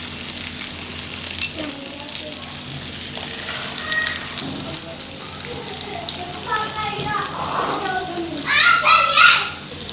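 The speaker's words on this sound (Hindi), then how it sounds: "इस तरीके से हम एक एक करके डिप करते जाएंगे और इसमें फ्राई कर लेंगे।" Shami kababs made with beef frying in a small amount of oil, giving a soft steady sizzle with occasional louder crackles under background chatter and children's voices, close by.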